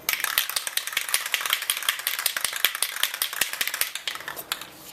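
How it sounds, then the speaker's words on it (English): Rapid rattling clacks of a spray paint can being shaken hard for painting a 2004 Volvo XC90 key fob, a quick steady rhythm, close and alone. "Make sure you shake your paint can up."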